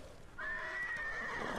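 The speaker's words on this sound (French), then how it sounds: "Les chevaux sont très nerveux hein," A horse in the samurai game Ghost of Tsushima gives one loud, drawn-out whinny close up, rising abruptly over quiet background and holding to the end.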